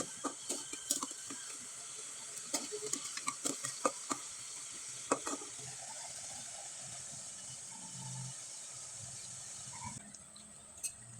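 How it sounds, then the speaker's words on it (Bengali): Rice flour pitha frying in oil, a soft steady sizzle with scattered sharp clicks and knocks of a utensil against the pan early on, then a quieter even bubbling. "এবার আমি কয়েকটা পিঠা আপনাদের তেলে ভেজে দেখিয়ে দিচ্ছি"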